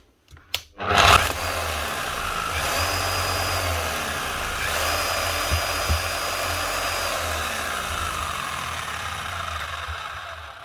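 A professional Bosch hammer drill clicks and then whines up to a steady high motor drone after its switch is repaired, running close and loud without its handle until it winds down at the end.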